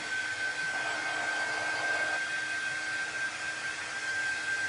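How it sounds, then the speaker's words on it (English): A hair dryer blows on wet chalk paint, a steady close whoosh with a thin high whine, its airflow shifting briefly in tone as it moves, then running evenly to the end. "Let's just hit it with a dryer a little bit"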